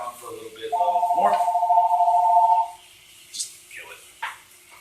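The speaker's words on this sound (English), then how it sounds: "Sorry, we have a phone in this room, which I guess I was aware of, but I didn't think about." An indoor telephone rings with a sustained electronic warble lasting about two seconds, fairly loud and near, followed by a few soft clicks and brief sounds in a quiet room.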